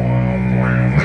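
A beatboxer's voice imitating a didgeridoo, a steady low droning buzz with rich overtones, close and sustained for about a second.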